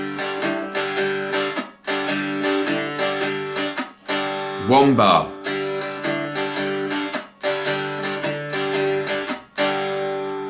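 One bar of twelve-bar blues played with a slide on a dulcimer, as rhythmic strummed bursts with short gaps between them. A gliding slide note sits in the middle, all at close range.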